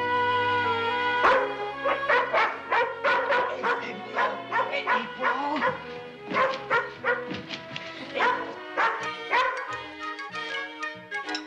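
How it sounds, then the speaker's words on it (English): An Irish setter acting as a watchdog barks in a rapid, repeated series, loud and close, with a few higher yips mixed in. "She's just being a watchdog, Joe."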